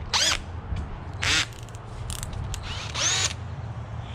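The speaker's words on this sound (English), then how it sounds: "So what I'm going to do is probably drill some holes right here" A power drill whines in three short bursts drilling holes in metal while installing an oil catch can on a turbo Honda Civic, high and close, with quiet gaps of low background hum between them.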